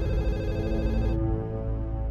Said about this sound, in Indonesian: Telepon, mungkin itu Isabella.